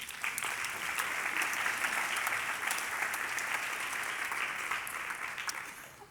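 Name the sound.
audience applause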